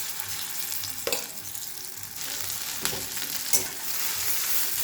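Ground pea paste fries in a pan after asafoetida goes into the oil, a constant sizzling hiss broken by a few sharp spoon scrapes and knocks as it is stirred.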